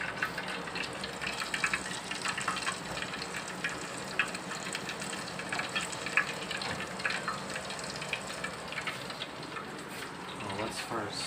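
Liquid being poured into a hot pan while cooking Filipino tuna sotanghon with sautéed tuna flakes, a steady gushing, sizzling wash running continuously throughout, with people talking over it.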